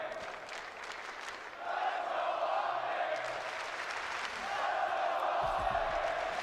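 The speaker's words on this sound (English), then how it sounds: "Crowd alive." A crowd roars and cheers at a Call of Duty League esports major in Atlanta, a broad swell of noise rising and falling under a caster's voice.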